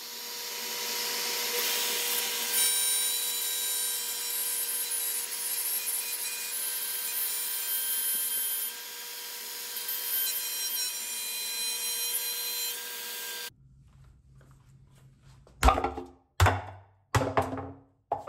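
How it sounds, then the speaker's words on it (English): A router on a Jasper circle jig cuts holes in a wooden speaker baffle, a loud steady high-pitched whine lasting over ten seconds, followed by silence and a few sharp knocks and handling noises. "I use a Jasper circle jig to cut all of these holes."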